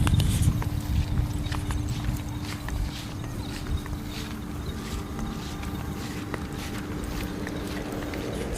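Small frogs call outdoors at dusk in a rural setting, a dense, steady chorus of clicks and croaks at moderate loudness with no talk over it.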